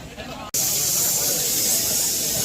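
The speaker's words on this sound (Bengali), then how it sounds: "এখানে এই যে রান্না হচ্ছে প্রেসার কুকারে। বাহ, চারিদিকে প্রেসার কুকারে রান্না হচ্ছে।" Pressure cookers hiss steam at an Adivasi market after a brief pause, a loud, steady, close jet of hissing that continues without a break.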